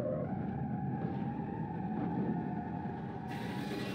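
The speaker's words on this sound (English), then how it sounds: "Yeah, that's the car crash." A car crash in the video game BeamNG.drive, heard as a steady, loud engine and road rumble with faint metallic resonance throughout and a brighter burst of noise near the end, with no talking.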